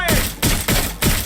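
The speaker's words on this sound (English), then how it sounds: "Shots fired!" Gunfire in the video game Watch Dogs Legion: four loud, sharp broadband shots in quick succession, each with a short decaying tail, close and dominant.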